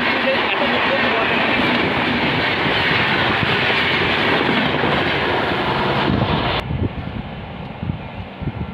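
Train rumbling loudly through the Duya railway station on a busy South Eastern Railway line, a steady close roar with rail clatter that drops away abruptly near the end.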